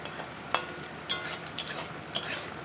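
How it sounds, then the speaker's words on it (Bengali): Low sizzling of sun-dried lentil dumplings frying in mustard oil in a pan, with a few soft clinks and scrapes of a stirring spoon, close by. "কড়াইতে বেশ কিছুটা সর্ষের তেল দিয়ে দেব, আর কিছুটা পরিমাণ বড়ি একটু লাল করে ভেজে নেব"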